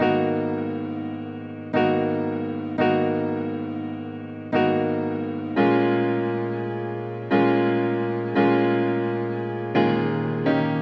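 Piano sample raised three semitones and chopped into a loop: repeated sustained piano chords struck at a steady pace, each ringing and decaying, played alone and clear.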